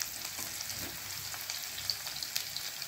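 Ingredients for an Odia prawn and potato curry fry toward brown in a pan, a fairly quiet, even sizzle with small crackles and faint stirring, with no voices.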